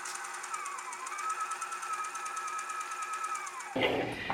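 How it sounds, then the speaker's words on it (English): Sewing a tote bag, a sewing machine runs in a steady, fairly quiet hum that holds without pause for several seconds, then breaks off into a brief handling clatter at the end. "Now, once you get it under there, we're just going to start sewing."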